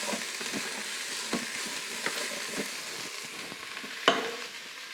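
Celery and other vegetables cooking in olive oil in a pan for Spanish alubias con verduras, with a steady soft sizzle and a few sharp scrapes and knocks of a utensil stirring against the pan.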